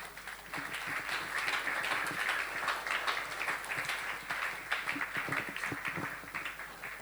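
A church audience applauds a pastor, sustained faint clapping from a crowd continuing steadily at a distance.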